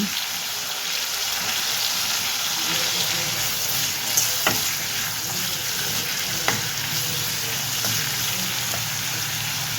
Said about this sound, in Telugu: ఇప్పుడు టమాటాలు బాగా మగ్గాలండి